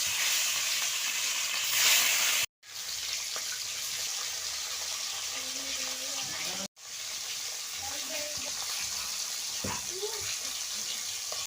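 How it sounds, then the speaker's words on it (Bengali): Fish (chokh mota) sizzle in hot oil with a continuous crackling hiss, briefly cut twice by abrupt gaps, and faint stirring and clinks along the way. "তেলটা গরম হয়ে গেছে, এবার মাছটা ভেজে নেব।"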